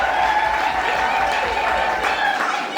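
Applause from a crowd at a 55th birthday celebration in Brussels, a steady wash of clapping sustained throughout, moderately loud with faint voices mixed in.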